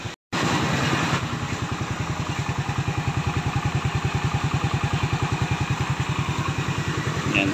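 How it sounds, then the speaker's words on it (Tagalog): A Yamaha Aerox V2 scooter with a 210cc engine idles close by, throbbing in a quick, even rhythm with a rattling belt noise mixed into the steady running sound. "Mas maingay pa ho siya pag idle. Yung tunog ho na yan ay dahil sa belt"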